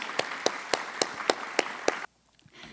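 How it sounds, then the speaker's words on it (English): Handclaps ring out at an awards evening honoring local women, a sparse run of about eight distinct claps spaced evenly, close and fairly loud, then breaking off abruptly into near silence. "Can we have a round of applause for both Sue Ann and Gordy?"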